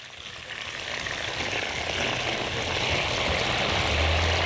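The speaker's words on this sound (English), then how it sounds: "Now, our potatoes are frying." Steady, dense sizzling and crackling of potatoes frying in a pan, continuous and fairly loud throughout, with a faint low hum underneath.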